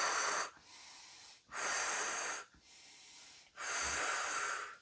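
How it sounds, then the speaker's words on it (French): During a sophrology relaxation session, deep, vigorous breaths alternate between breathing in and breathing out, four long airy rushes about a second each, close and steady, with no talking. "Nous prenons quelques inspirations un peu plus toniques."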